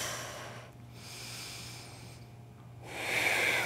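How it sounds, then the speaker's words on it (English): Deep breathing during a seated yoga session: slow, airy inhales and exhales, close to the microphone, in long hissing swells separated by short pauses, alone without talk. "deep breaths"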